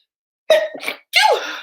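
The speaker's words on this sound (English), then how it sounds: "Was that a sneeze?" A single sharp sneeze, a quick intake followed by an explosive burst, close and loud in an otherwise quiet moment.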